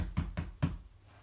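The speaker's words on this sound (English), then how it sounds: "and then there was a knock at the door." Three firm knocks land on a wooden door in an even rhythm, close and fairly soft, followed by a brief quiet tail, set in a telling of The Three Little Pigs.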